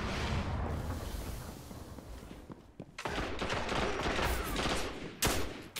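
Hand cannon shots from the Down And Doubt 00-0 legendary hand cannon in Destiny crack out in a quick irregular burst, loud and close, amid a dense battle din.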